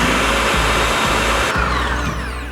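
A blender whirs loudly and continuously for a few seconds as it mixes lemonade, with a slight shift in pitch partway through.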